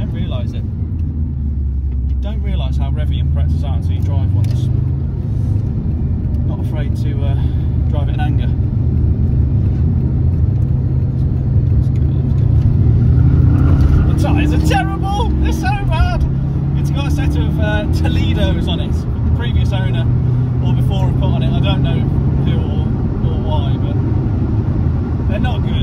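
Subaru Impreza Turbo 2000 Prodrive engine revving while driving, a loud continuous drone with rising and falling pitch as revs climb, with someone talking over it throughout.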